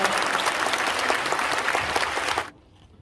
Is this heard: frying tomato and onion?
no